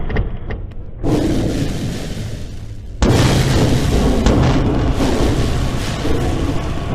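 A crash landing in the VR game Tea For God: a loud, deep explosive boom hits, then a second, heavier blast gives way to a sustained roaring rumble.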